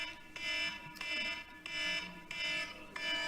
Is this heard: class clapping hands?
no